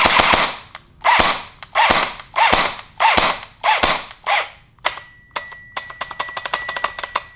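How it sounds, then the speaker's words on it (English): An airsoft gun with a locked gearbox fired on semi, with sharp, loud mechanical cracks in an even rhythm and then a faster run of thin clicks as the motor strains to turn over. "we can hear that that motor is trying to turn over"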